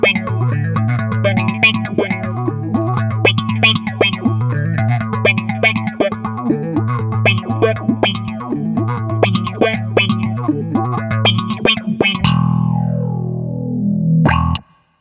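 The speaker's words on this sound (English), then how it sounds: "When you get into the triple peak section, that's more of that vocal, aquatic, out there sound that some of us are really looking for." Bass guitar played through a Soundblox bass envelope filter pedal on a triple peak setting, a rhythmic, vocal-sounding wah-like line with bright plucked attacks, ending in a sustained note that sweeps down before cutting off.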